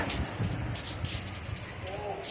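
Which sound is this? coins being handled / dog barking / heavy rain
heavy rain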